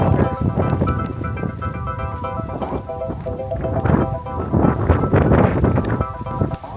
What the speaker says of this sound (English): She's a wee bit windy.